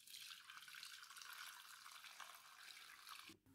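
Finished broth being strained through a sieve for a classic Russian soup, a continuous hissing pour of liquid running steadily, then cutting off abruptly near the end.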